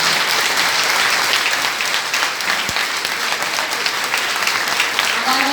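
A church congregation standing at an Assembleia de Deus service applauds, dense continuous clapping filling the room loud and close, with faint voices underneath.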